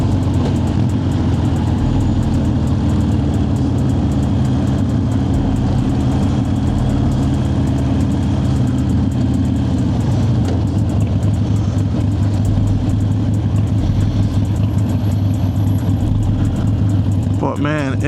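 A motorbike cruises around town, its engine and road noise droning steadily and close throughout, settling into a lower idle-like hum partway through before a brief clatter at the end.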